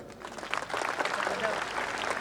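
Audience applause at a motivational lecture held at a school in Solapur, a sustained patter of many hands clapping at moderate volume through the whole stretch, fairly steady with a slight swell midway.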